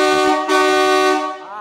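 A dual marine air horn fitted to a Fiat Uno blasts a loud, brassy two-tone honk lasting over a second, then cuts off abruptly.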